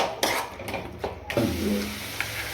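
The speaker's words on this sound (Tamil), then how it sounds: "இறாலை போட்டு ஒரு கிண்டி விட்டுட்டு" Prawn biryani masala stirred in a pan after the prawns go in: a few quick scraping strokes over a soft sizzle, close and fairly quiet, with no voices.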